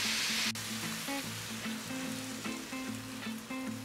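Rapana sea snails frying with mushrooms in a pan over high heat give a steady, close sizzle with occasional stirring clinks, and no voice.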